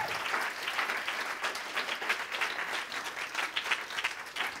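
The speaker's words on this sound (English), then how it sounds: "Let's give her another round of applause." Audience applause after a presentation at an indoor talk, steady dense clapping from a room of listeners lasting the whole stretch with no voices over it.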